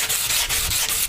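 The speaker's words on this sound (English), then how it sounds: "me and my sanding block are not making much headway" Steady, rough scraping of a sanding block rubbed back and forth across a concrete planter in short repeated strokes.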